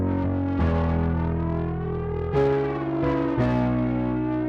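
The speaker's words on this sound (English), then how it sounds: "Give some saturation. Crunch it a bit." A synth tone crunched by saturation distortion, sustained with buzzing harmonics and re-struck with fresh gritty swells at about 0.6, 2.3 and 3.4 seconds, loud and alone.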